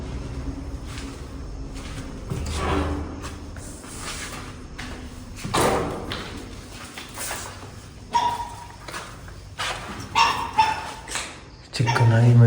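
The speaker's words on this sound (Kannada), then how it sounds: "ಚಿಕ್ಕ ನಾಯಿ ಮರಿ ಸೌಂಡು." A small puppy yips and barks in short scattered bursts inside a room of a house, with whimpering notes, while people talk over it.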